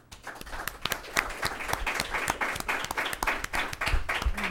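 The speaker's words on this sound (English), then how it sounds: "I'd like everybody to give a round of applause to Jean-Claude." Audience applause at the close of a talk on Haiti's political crisis, dense and steady clapping from a roomful of people with sharp individual claps standing out throughout.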